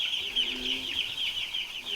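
Cornish cross chickens, a fast-growing meat breed, in a farm chicken coop, keep up a steady chorus of high peeping and soft clucking throughout, close by, with no talking.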